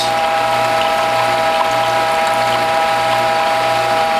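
A WHF juicer press being cranked to squeeze vegetable pulp, giving a steady close mechanical ratcheting whir with a faint tonal hum underneath, continuous and alone.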